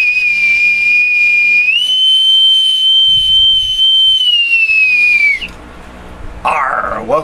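A bosun's whistle pipes a long, loud, steady shrill tone that steps up in pitch partway through and then slides down, followed by a brief pause and a short, higher final burst.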